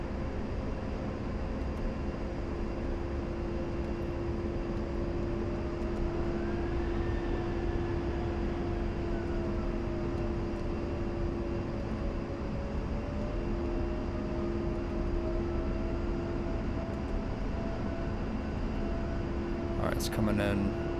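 A-10C jet in flight in Digital Combat Simulator, a steady loud engine drone with a constant whine and slowly shifting tones throughout, and a brief crackle near the end.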